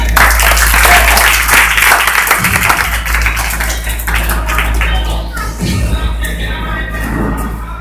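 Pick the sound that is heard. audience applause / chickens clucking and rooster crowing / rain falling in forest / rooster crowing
audience applause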